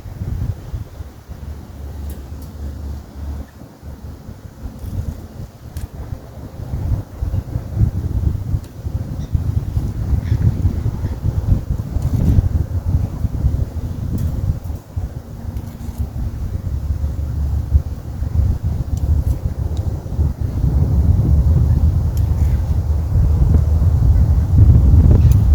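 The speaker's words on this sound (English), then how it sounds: "Very windy here today." Strong wind roars steadily outdoors, buffeting the microphone with a constant low rumble that builds slightly toward the end.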